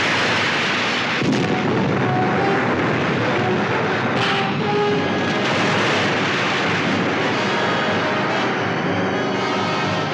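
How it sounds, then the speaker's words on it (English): Heavy naval turret gun fire from a warship in a monster film, a dense, loud, continuous rumbling roar with a sharp burst near the start and another swell midway, like thunderous artillery rolling on. "Fire number 1 turret."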